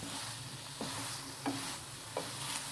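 Okra (bhindi) stirred in a hot pan on a home stove, a steady sizzle of frying with a few distinct spoon scrapes and stirs spaced about a second apart, close and moderately loud with no talking.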